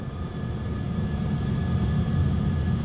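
An Airbus A320 on its takeoff roll down runway 23 at Geneva makes a loud, steady low engine roar that builds slightly in strength, with a faint whine riding above the rumble.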